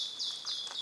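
Birds in a New Zealand forest trill and chirp in short high bursts, fairly clear against an otherwise quiet background.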